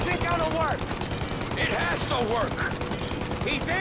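Rapid, dense gunfire in Mafia Definitive Edition, fired at a plane in flight, crackling without pause through the whole stretch while a voice talks over it.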